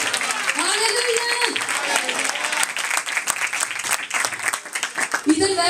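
Audience at a church gathering breaking into sustained applause, a dense crackle of many hands clapping throughout, with a voice speaking over it near the start.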